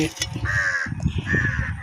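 Crows being fed beside the Krishna river give two drawn-out caws, close and clear, over a low murmur of background voices and outdoor noise.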